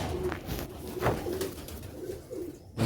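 Sialkoti black-mouthed pigeons cooing close by: a few soft, low, rolling coos spread across the moment over a faint background.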